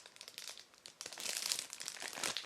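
Clear plastic bag packaging around a Grand Seiko Maneki-neko crinkles close up in continuous rustling bursts, growing louder and busier in the second half, with no talking.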